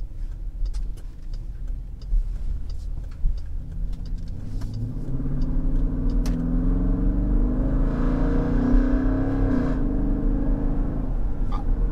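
A Jeep Grand Cherokee SRT with a 5.7 Hemi V8 and its mid muffler deleted, cold-started and revving, gives a loud, deep rumbling exhaust that rises and falls through several rev sweeps, close by and steady throughout.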